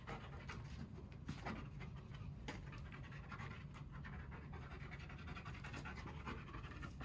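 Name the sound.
police dog panting while searching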